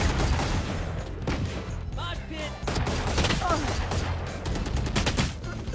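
Gunfire in a Valorant match: dense, continuous volleys of loud rapid shots with scattered sharper cracks, carrying on steadily from start to end, with no talk.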